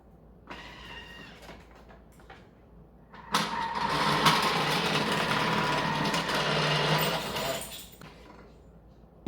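A Thermomix cutter thinly slicing zucchini gives a loud, steady whirring and chopping burst of about four and a half seconds, preceded by a fainter high machine whine and followed by quiet.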